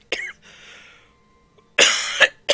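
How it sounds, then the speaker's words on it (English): A man coughs harshly and close to the mic: one sharp cough, a quieter wheezy breath, then a heavy double cough burst toward the end, with brief silence between. "I cough horribly."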